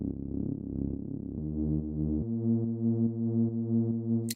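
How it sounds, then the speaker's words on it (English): A speed garage bass line from a Serum synth preset, deep and sustained, stepping through a few held pitches with rhythmic pulses, loud and alone before a brief click at the end. "this bass sound is actually a preset for my Speed Garage Volume 3 Serum preset pack"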